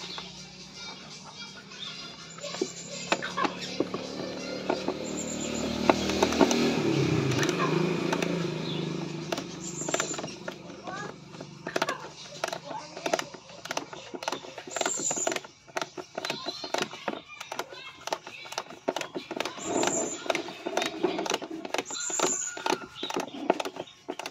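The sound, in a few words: Allen ratchet tool installing a motorcycle tire hugger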